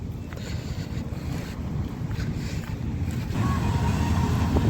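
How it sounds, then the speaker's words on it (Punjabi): Three combine harvesters work a field. A steady low mechanical rumble, mixed with wind buffeting the microphone, builds slightly louder toward the end. "ਤਿੰਨੇ ਕੰਬਾਈਨਾਂ ਹੀ ਆਪਾਂ ਇੱਧਰ ਲਾਤੀਆਂ ਨੇ"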